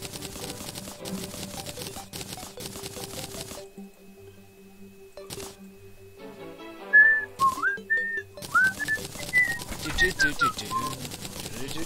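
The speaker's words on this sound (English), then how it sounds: "I wasn't singing it. I was whistling it." A person whistles a tune while playing Terraria, the bright gliding melody rising and falling in short phrases over the game's background music, fairly close and loud, with speech before it.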